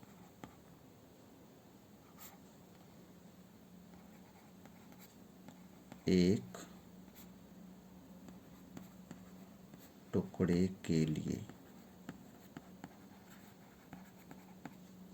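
Pen scratching on paper while a geometry problem on triangle area with Heron's formula is worked out, two short bursts of brisk writing strokes, quiet and close, with long pauses between them.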